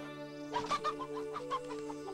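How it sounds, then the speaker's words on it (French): A hen clucks in a quick series of short, nasal calls, fairly close, over a faint steady background hum. "Et voilà une poule pour les œufs frais."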